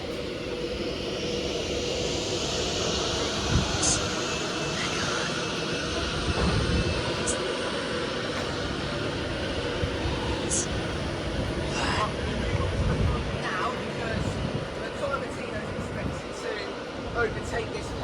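A Pendolino train passing through Lichfield Trent Valley station, a steady loud roar with a high whine sustained throughout, while people talk nearby.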